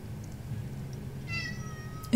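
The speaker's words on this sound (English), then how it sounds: "And my cat is crying at me." A house cat meows near the end, one short cry rising out of a quiet room hum with faint higher tones just before it, with no talking.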